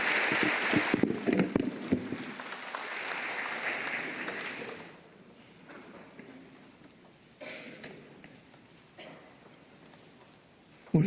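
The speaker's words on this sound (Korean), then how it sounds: "박수를 다 같이 보내주십니다" A church congregation at a Sunday worship service claps warmly for a few seconds after a Hosanna praise song. The applause then fades into quiet room noise with scattered small sounds.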